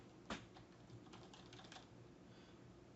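Typing on a computer keyboard while entering PowerShell commands, a short run of soft, close key clicks with one sharper tap near the start, heard alone at low level.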